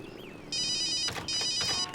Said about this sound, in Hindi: ओह नो, मॉम का ही फोन है।